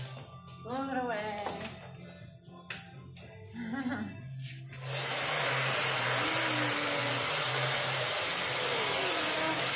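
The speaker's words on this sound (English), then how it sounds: "Turn the hair dryer back on." After a few moments of talking and small knocks, a hair dryer switches on and runs with a loud, steady whooshing hiss, a voice occasionally heard underneath.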